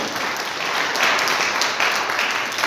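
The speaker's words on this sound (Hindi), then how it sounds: "एक जोरदार ताली बजे" Vigorous applause from a crowd at a Modicare business meeting, a thick, continuous patter of many hands clapping nearby, steady in loudness from start to finish.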